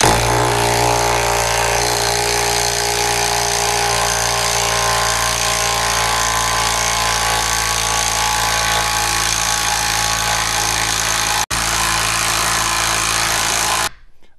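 DeWalt DCF901B 12-volt impact wrench working against lug nuts, a loud, continuous hammering rattle held for about eleven seconds, then a brief break before it resumes and cuts off near the end.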